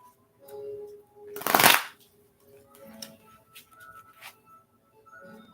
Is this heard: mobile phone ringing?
no